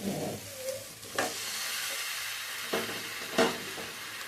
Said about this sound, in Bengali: আবারও আমি ভালো করে নাড়াচাড়া করে এগুলোকে কষিয়ে নেব